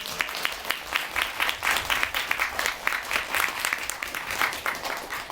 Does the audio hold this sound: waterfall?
no